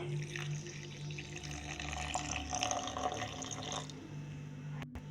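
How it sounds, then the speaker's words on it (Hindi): Water trickles and splashes steadily into spice paste with coriander root before blending, with a low background hum and a brief knock near the end. "अब यहाँ पर डालेंगे थोड़ा सा पानी, थोड़ा सा पानी।"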